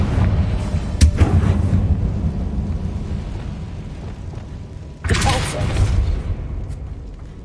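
A Confringo spell blast in Hogwarts Legacy strikes a barricade in the game, with a loud booming burst near the start and a second heavy explosive crash about five seconds in, over a low rumbling background.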